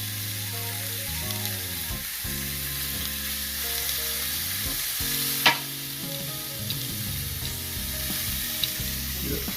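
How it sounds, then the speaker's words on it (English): Ribeye steaks sizzle on a Ninja Foodi XL grill, a steady loud hiss of frying fat with low humming tones underneath and a few sharp clicks and knocks as the meat settles. "add each steak in slowly"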